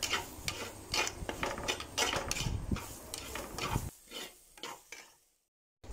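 Taro pieces sautéed with black pepper and fennel for a roast, with close, busy stirring scrapes and a light sizzle in the pan that thin out into faint scrapes before falling silent.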